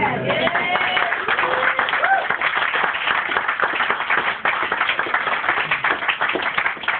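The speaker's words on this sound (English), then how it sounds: "maybe you can applaud that one actually" Sustained applause from an audience at a live poetry reading, dense clapping that holds steady throughout without fading, heard from within the room.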